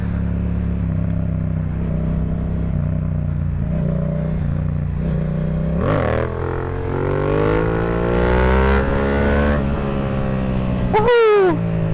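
A Kawasaki 636 sport bike revs up hard through a wheelie on a road, its engine climbing in pitch over steady riding noise and wind, ending in a sharp high rev burst.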